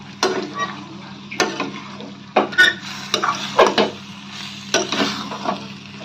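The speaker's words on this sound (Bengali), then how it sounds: "আমরা ভালো করে ধনেপাতাগুলো লাউয়ের সঙ্গে মিশিয়ে নেব" Chopped coriander being stirred into a bottle gourd and prawn curry in a pan, with a series of distinct scraping clanks of a spatula over a soft background sizzle.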